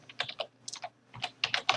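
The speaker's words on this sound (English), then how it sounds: "if I start typing" Quick, close clicking of keys on a computer keyboard, an uneven run of individual taps with a brief pause midway.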